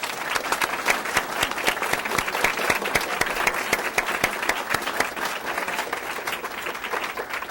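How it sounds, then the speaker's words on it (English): An audience at a school board meeting applauds scholarship winners, with dense, sustained clapping from a crowd filling the room at steady strength throughout. "please offer a round of applause for our scholarship winners"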